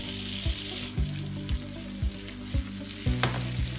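Almonds frying in browned butter in a pan give a steady close sizzle, broken by a few regular stirring scrapes and knocks about every half second.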